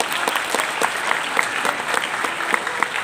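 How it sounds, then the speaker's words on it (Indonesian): A crowd at the opening ceremony of a national student competition in Jakarta applauds, with dense, steady clapping that runs unbroken for a few seconds at moderate loudness. "Tepuk tangan yang untuk dari yang mendaftar."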